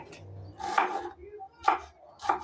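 Knife chopping onions and greens on a board in a home kitchen, three distinct close, crisp cuts spaced unevenly, with no talk.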